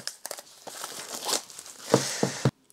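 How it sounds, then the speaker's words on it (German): Plastic shrink film is peeled off a Blu-ray mediabook by hand, making close, crisp crinkling and short tearing bursts in uneven spurts before stopping abruptly. "machen wir mal die Folie ab."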